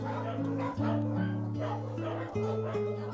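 Dogs at a shelter for abused and abandoned dogs bark and yip in overlapping, whining calls, close and continuous, with a voice speaking underneath.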